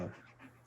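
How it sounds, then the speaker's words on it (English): A dog pants quietly in the background, a soft, steady, rhythmic breathing that sits low and close in an indoor room, with no other clear sounds over it. "Sorry if you hear my dog in the background too, panting"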